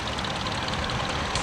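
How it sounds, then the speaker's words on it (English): An antique Minneapolis tractor engine runs at an antique tractor and steam engine show, giving a steady, dense mechanical drone that holds at an even level throughout. "Minneapolis is running right now."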